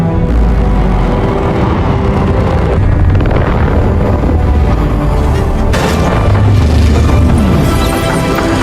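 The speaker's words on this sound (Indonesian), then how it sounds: "Ledakan membuat guncangan yang sangat besar dan hampir saja membunuh mereka semua" A loud, sustained roaring rumble with deep booming surges and crashing debris from an explosion in the film Moonfall, like a powerful blast and its aftermath.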